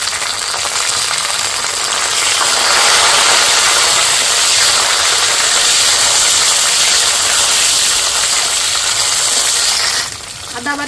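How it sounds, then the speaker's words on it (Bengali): Chopped tomato goes into hot tempering oil for a vegetarian aloo dum, setting off a loud, steady hissing sizzle that holds for about ten seconds before easing off near the end. "ফোড়ন ভাজা হয়ে গেছে, টমেটো কুচি দিয়ে দিচ্ছি।"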